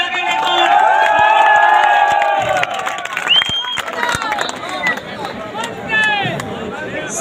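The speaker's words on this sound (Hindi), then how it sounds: "जोरदार तालियां बजा के" A large crowd at a political welcome event in Ringas cheers and claps loudly and steadily, then the noise thins into scattered applause and shouts.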